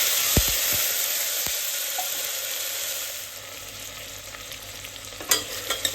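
Chopped tomato frying in a pan for egg biryani, a steady broad sizzle with a few soft stirring knocks early and a cluster of scraping clinks near the end, close and moderately loud.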